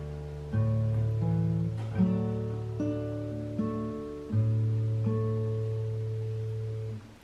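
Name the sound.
guitar part from a song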